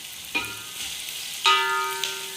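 Chopped garlic and ginger sizzle in hot oil in a pan for biryani, a bright continuous crackle with two sharp bursts as more goes in, with no voices.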